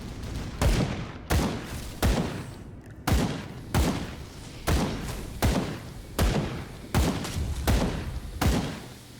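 Repeated heavy explosions from grenades in the action role-playing video game Grim Dawn, about a dozen booming thuds at a steady rapid rhythm, loud and dense with no talk.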